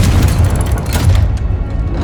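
Confringo blasting curse explosion in Hogwarts Legacy, a loud deep rumbling boom with heavy low-end roar filling the short span before it tapers off slightly.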